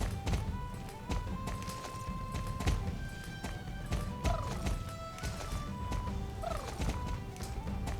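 Horses moving quickly over ground with repeated clip-clop hoofbeats, joined by occasional neighs and whinnies, all steady at a moderate level without talk.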